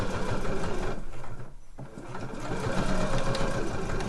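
A sewing machine stitches slipper soles with a close, loud, fast mechanical whir, pausing briefly partway through before running again for a few back stitches.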